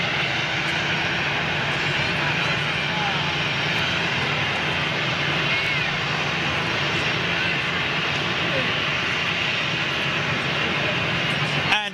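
A KLM Boeing 747-400 jet airliner gives a steady, loud, broad roar of jet engines that holds constant throughout, with no talk.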